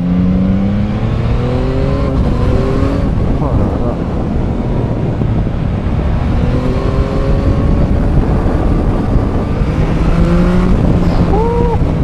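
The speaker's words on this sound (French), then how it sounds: "le point fort de cette moto, c'est son moteur" A 2021 Yamaha MT-09 motorcycle engine revving and shifting through gears on the move, rising tones repeating over heavy wind rush, with a brief exclamation from a rider.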